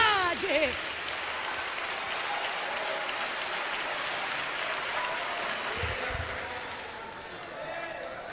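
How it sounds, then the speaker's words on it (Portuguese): A congregation at a church sermon breaks into a long, steady wash of enthusiastic applause, dense and sustained, slowly tapering near the end. "Vamos aplaudir com vontade"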